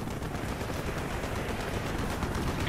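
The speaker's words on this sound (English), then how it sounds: "Taking AAA fire from the deck!" Sustained anti-aircraft gunfire in Call of Duty Black Ops, a dense, continuous rattle of flak and distant bursts filling the whole stretch at steady loudness, with no voices.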